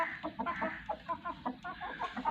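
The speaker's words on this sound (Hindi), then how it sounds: "दोस्तों ये मेरे पास एक लसानी पट्टा है, माशाल्लाह मुर्गा बन चुका है।" A young Lasani-breed rooster makes a string of close, moderately quiet clucks and short throaty calls in a steady, uneven rhythm, with no voices over it.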